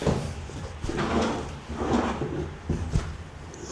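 Kitchen drawers in a sea view apartment in Da Nang slid open and shut several times in quick succession, close by and without talk.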